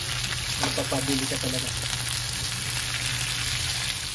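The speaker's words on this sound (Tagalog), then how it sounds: "nagisa na natin ng maayos ang sitaw" String beans for adobo sauté in a hot pan, a dense, steady sizzle filling the whole stretch, with a voice speaking briefly over it early on.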